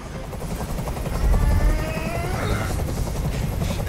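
A helicopter hovers in the video game Detroit Become Human, a low rhythmic rotor thump with a rising engine whine, fairly loud and swelling in the middle before settling back to a steady drone.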